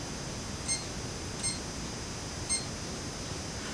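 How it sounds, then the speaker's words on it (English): Three short, high electronic beeps from a kitchen timer being reset, evenly spaced about a second apart over a steady background hiss. "Okay, reset the timer."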